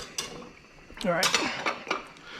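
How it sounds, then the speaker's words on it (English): A whisk stirring cheese sauce in a metal pot for homemade mac and cheese, close clinking and scraping strokes against the pot in a quick irregular run, no voices. "that's enough with my whisk"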